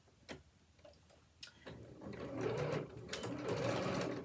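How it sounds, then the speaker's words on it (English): A home sewing machine back stitching on a shirt cuff: a few isolated clicks, then a steady fast mechanical whir with rhythmic ticking that runs on to the end, close and moderately loud. "So just doing a back stitch, always making sure my needle is down on the machine"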